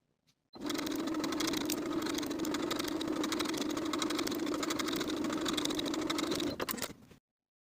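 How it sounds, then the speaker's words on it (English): A sewing machine stitches a half-inch skirt seam from the waist down to the slit marking, running in one steady, close, loud whirring burst of about six and a half seconds before stopping. "Then I'm going to sew from the top of the skirt to my slit marking with a 1/2 inch seam allowance."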